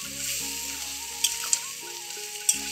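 Ground spice paste fries for a fish curry, a soft continuous sizzle with a few sharp spatula scrapes, set against faint steady background music.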